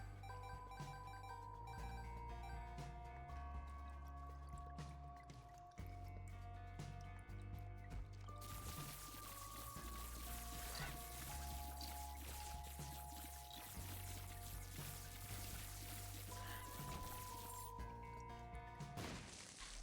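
Water flows and pours continuously through the flooded caves level of The Binding of Isaac Repentance, mixed with game music and occasional impact effects, faint and steady throughout.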